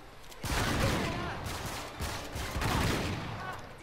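Uncharted: Nathan Drake Collection gameplay with dense, sustained gunfire in rolling volleys, loud and continuous, with a few heavier thumps mixed in.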